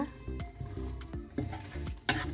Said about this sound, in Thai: หลังจากนั้นเราก็ขยี้ไข่กับกุ้งให้เข้ากันนะคะ